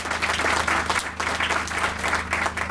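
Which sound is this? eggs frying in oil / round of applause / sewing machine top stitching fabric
round of applause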